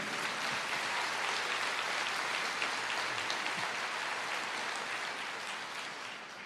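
A church congregation applauds steadily at moderate distance, a sustained clapping texture that gently fades toward the end.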